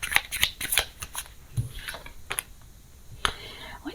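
Tarot cards being shuffled and laid out during a reading, a run of crisp papery snaps and flicks in quick succession, then sparser single slaps of cards set down, close and fairly quiet with no talk.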